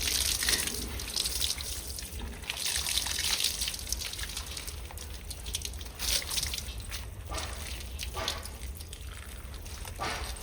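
Water splashes and trickles steadily as a pet dog is bathed, a continuous wet pouring and dripping sound close by with no talking.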